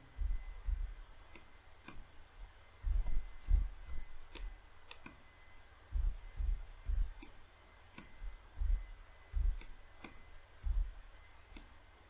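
Computer key presses while selecting faces in Blender, soft scattered clicks and light taps arriving in small clusters with pauses between, quiet and close.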